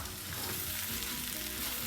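Egg fried rice with shrimp and carrot is stir-fried in a pan, giving a loud, continuous sizzle with a busy crackle close up and no voices.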